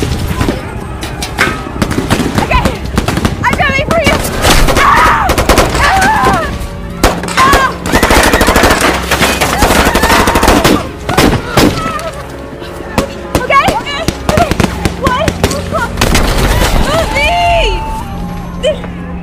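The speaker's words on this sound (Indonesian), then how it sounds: "Ketika di tengah-tengah perjalanan, tiba-tiba saja Lucy telah tertembak" Bursts of machine gun fire and gunshots crackle through an action film battle with soldiers, loud and scattered across the scene, mixed with voices, music and other battle noise.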